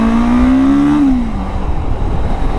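A Zongshen RX3S motorcycle engine hums steadily while riding toward a rough, broken off-road track, its tone rising a little and then dropping back, loud and close with road and wind rumble underneath.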